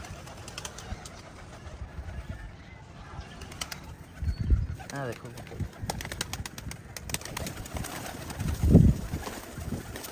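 Pigeons flutter and coo on a rooftop at feeding time, with soft wing flaps and cooing in the background and two louder bursts of flapping as birds land nearby; someone speaks briefly.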